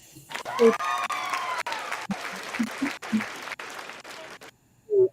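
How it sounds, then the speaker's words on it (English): A crowd applauds steadily for several seconds, the clapping breaking off briefly now and then before fading out, with a voice at the very end. "So a big round of applause to you, Melanie, because this is what you do."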